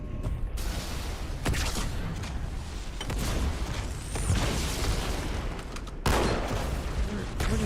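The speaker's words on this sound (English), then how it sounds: "We'll grab this other big boy Covenant version of a rocket launcher." Covenant rocket launcher fire in Halo 2 sounds as loud, continuous bursts of blasts and explosions layered over battle noise, with a sharp new burst near the end.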